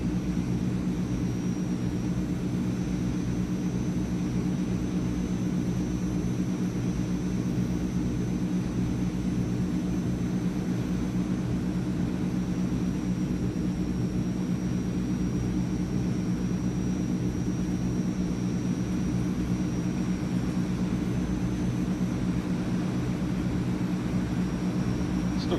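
Transall C160 twin-turboprop cargo plane cruising in Microsoft Flight Simulator, a steady droning engine hum with a thin constant whine on top, unchanging and continuous throughout.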